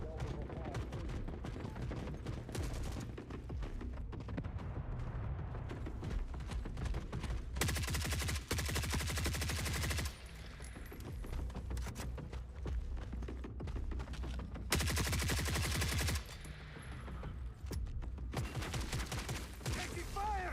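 Gunfire in the video game The Forever Winter, with dense bursts and rapid volleys of shots crackling through most of the stretch, rising to louder sustained fusillades in places, with voices talking over it.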